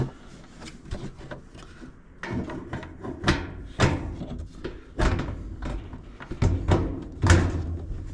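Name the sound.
hanging a door on its hinges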